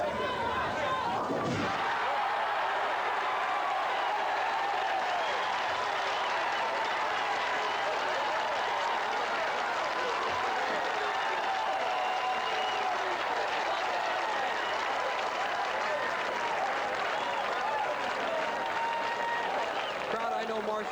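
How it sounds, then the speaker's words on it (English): A crowd at a 1981 professional bowling tournament cheers and applauds steadily throughout, a broad wash of clapping and voices, fairly close and sustained, with an announcer's voice speaking over it. "But now they're cheering him."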